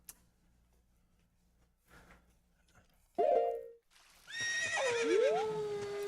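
Epona, the horse in Zelda: Ocarina of Time, gives two loud, close game whinnies, a brief squealing neigh followed by a longer, fuller one that trails off, after a quiet stretch with soft game sounds.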